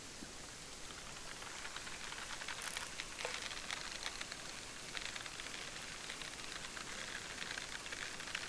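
Steady rain falls throughout, a soft, even hiss of drops on surfaces at a carp fishing venue, faint and continuous with no voices.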